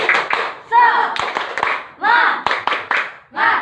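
Children in a classroom clap a rhythmic cheer in short bursts, sharp claps punctuating loud chanting young voices, close and lively.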